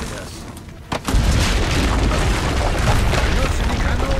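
Heavy cannon fire booms out in Assassin's Creed Brotherhood, a sudden loud blast followed by a sustained roaring rumble of battle noise.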